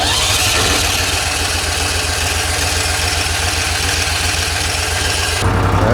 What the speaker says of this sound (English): we're gonna go ahead and fire it up, see what it does